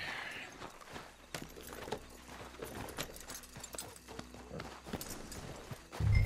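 Horse hooves clip-clop at a steady walking pace in the video game Red Dead Redemption 2, moderately close and even, with faint ambient sound underneath.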